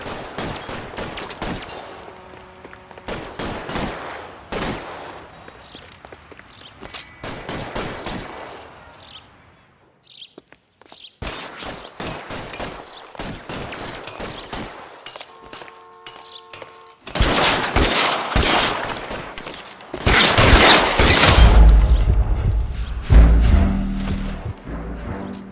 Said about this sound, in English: All units, shots fired.